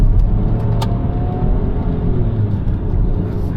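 A Rogue's small three-cylinder engine hums and rises steadily as the vehicle accelerates, a continuous low drone heard from inside the car, with no talking.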